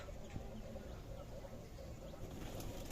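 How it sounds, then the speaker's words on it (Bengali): Pigeons coo in a loft in low, throaty murmurs, several birds together in a steady soft chorus with occasional rustling, fairly close. "এটা হলো আমার কবুতরের ঘর"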